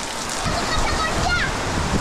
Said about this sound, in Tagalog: Malamig kasi ang ulan.